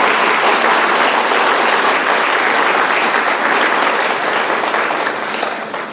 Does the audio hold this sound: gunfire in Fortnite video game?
no